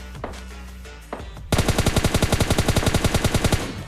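Rapid automatic gunfire from PUBG Mobile Lite gameplay, a long steady burst of evenly spaced, loud shots that starts abruptly after a few scattered single shots.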